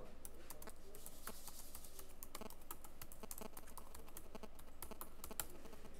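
Rapid keystrokes on a computer keyboard while typing text into a presentation slide, a steady close clatter of clicks running throughout with no voice.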